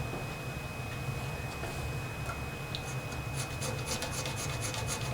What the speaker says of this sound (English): need to make sure to clean off this gasket surface here